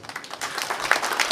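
Audience applause at a public hearing on a sports centre construction, a brief burst of dense clapping from a small indoor crowd.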